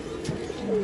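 A single short, soft coo comes from a yellow-ringed pigeon perched at its loft during a pigeon flying tournament.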